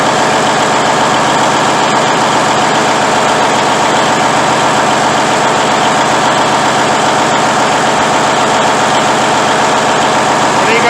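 A Cummins N14 Celect Plus diesel truck engine runs at a steady fast idle after injector replacement, close and loud, with a constant rumbling drone and no pauses.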